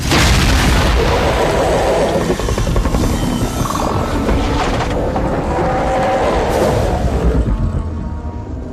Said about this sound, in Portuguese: É o som forte dessa criatura que acabou de aparecer